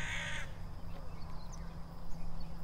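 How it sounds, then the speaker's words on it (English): A single crow gives one brief caw at the very start, close and fairly loud, then only faint outdoor background hum remains. "Come on, crow."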